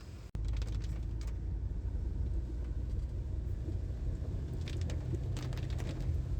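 A car drives through a slushy jungle road at night in rain on the way to Castle Rock hill station in Karnataka, giving a steady, close low rumble with faint patter above it and no talk.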